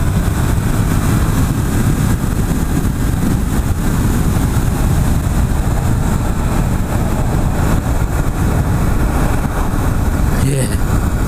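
Yamaha MT-07 motorcycle engine running on the road, a loud, continuous low drone mixed with rushing wind that holds steady for the whole stretch.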